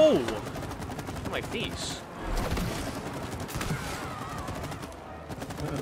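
Rapid, quiet gunfire from a video game plays in the background as a player dashes and shoots. A player exclaims over the shots.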